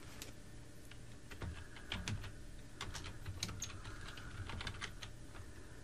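Quick, light clicking of keys on a computer keyboard as a search term is entered, close and fairly quiet, with uneven bursts of keystrokes and no voices.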